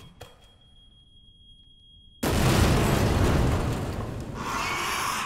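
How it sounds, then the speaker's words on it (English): A video game explosion in Resident Evil 2 bursts in abruptly after a quiet stretch with a steady high alarm tone. A loud, roaring blast follows and sustains with rumbling debris for several seconds. "Explosion."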